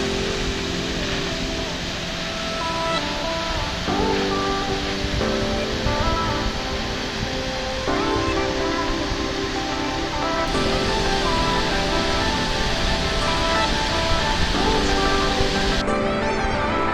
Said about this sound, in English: Multnomah Falls is both the most famous and most popular of the Columbia River Gorge waterfalls